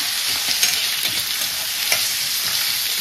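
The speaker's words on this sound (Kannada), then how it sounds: "ನೋಡಿ ಇದು ಬೇಯ್ತಾ ಇದೆ ಸಾಂಬ್ರಾಣಿ ಸೊಪ್ಪು" Sambrani leaves fry in a hot pan with a steady, close sizzle and a hiss of oil, while a spoon stirs them with light, irregular scraping strokes. No voices.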